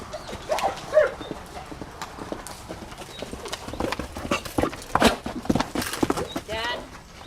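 A black Swedish Warmblood stallion cantering in San Diego, hooves giving a rhythmic series of soft thuds, with scattered noises around them and faint voices in the background.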